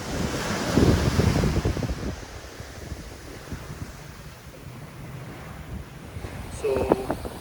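Waves wash onto a beach at a fishing village, soft and continuous, with wind buffeting the microphone and a faint voice now and then.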